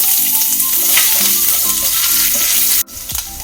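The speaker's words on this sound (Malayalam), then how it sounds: "ഉലുവ ഉലുവ മൂപ്പിട്ടുണ്ട് ഇതിലേക്ക് ഇഞ്ചി അരിഞ്ഞത്" Chopped ginger dropped into fenugreek seeds frying in hot oil, giving a loud close sizzle with faint stirring clatter that cuts off abruptly near the end, then a quieter crackle resumes.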